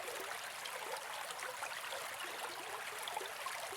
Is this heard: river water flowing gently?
yes